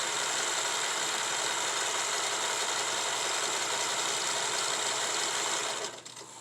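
A sewing machine stitches a line along fabric pleats with a close, steady, fast mechanical whir that runs for several seconds before slowing and dropping off at the end.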